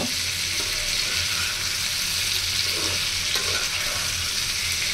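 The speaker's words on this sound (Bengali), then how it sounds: "এখন সবগুলো একসাথে ভালো করে নেড়ে নামিয়ে পরিবেশন করে নিব।" Pumpkin bhaji with chopped green chilli and coriander sizzles steadily in a pan while being stirred, with a continuous close frying hiss and soft scraping.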